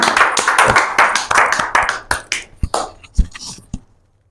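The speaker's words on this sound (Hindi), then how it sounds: "जोरदार तालियों के साथ आमंत्रित करें ब्रज सुंदर सोनी।" Applause from an audience at a poetry gathering comes as a burst of sharp, close claps that thins out into a few scattered claps before fading to silence.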